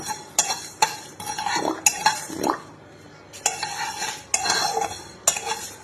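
Mustard seeds, panch phoron and fennel are dry-roasted together in a pan as pickle spices, heard as a run of scraping stir strokes and sharp utensil clinks in uneven bursts, with a brief pause midway and no talking.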